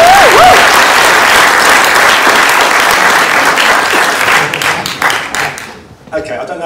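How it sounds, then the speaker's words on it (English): A conference audience claps in loud, dense sustained applause that thins out and fades toward the end, with a voice briefly audible at the start and again after the clapping dies down. "So if you can give him a round of applause"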